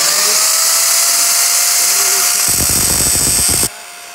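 An angle grinder works a 30-degree beveled edge on steel, a steady high whine running throughout with a rougher, louder grinding burst near the end before it cuts off abruptly.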